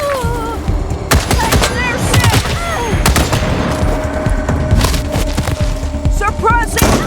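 Gunfire from suppressing fire in the video game Wasteland 3, a dense run of sharp shots and thuds sounding steadily throughout, mixed with voices and game effects.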